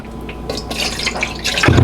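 A cup of water poured into a large mixing bowl holding vegetable oil for pumpkin bread, a close, steady splashing stream with a slight gurgle near the end.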